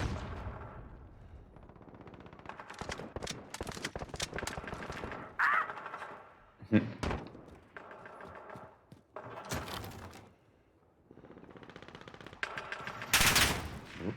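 Video game gunfire crackles in rapid automatic bursts and single sharp shots, loud and close, with brief quiet gaps between volleys.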